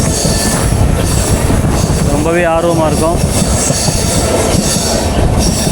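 The Pamban Express rolls across the new Pamban vertical-lift bridge, a loud continuous rumble of wheels on rails with a rising and falling metallic squeal in the middle, and a voice talking faintly underneath.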